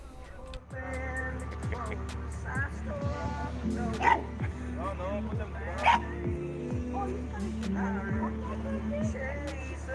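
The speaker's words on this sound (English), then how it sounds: "Some dogs." Dogs, including a small pug, bark and yip in short bursts over a steady low engine rumble outdoors, with a person talking throughout.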